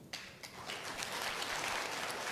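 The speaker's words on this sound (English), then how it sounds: "Let's give a round of applause to our new Chief Girl Scout" Audience applause rises into a dense, steady wash of clapping at a Girl Scouts of the Philippines ceremony honoring a new Chief Girl Scout, sustained with no voices over it.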